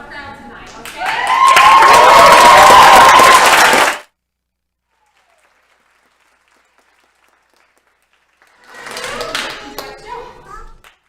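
A theatre audience at a musical showcase claps and cheers loudly for about four seconds, then falls silent before a second, softer burst of clapping and cheering returns near the end.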